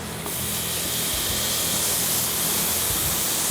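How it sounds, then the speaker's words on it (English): Loud, steady hiss of steam as vegan cheese melts under a broiler plate on a hot restaurant flat-top grill, a continuous spraying rush with no talk. "we throw a broiler plate over there and steam the cheese"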